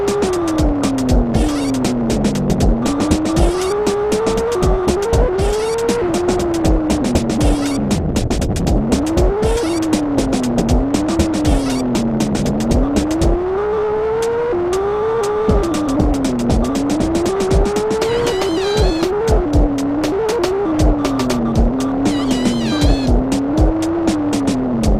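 Blocky miniature cars race in an Atari Jaguar game, with engine tones rising and falling in repeated whining sweeps and bursts of tire skidding, loud and continuous for the whole stretch with no talk.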